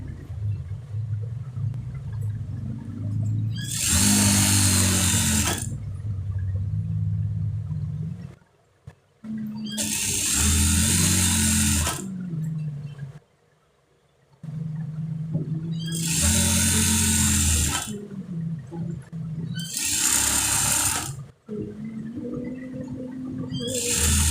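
Electric sewing machine stitching the side seams of a kurta (panjabi), heard in four long, loud bursts of steady whirring with short near-silent pauses between them.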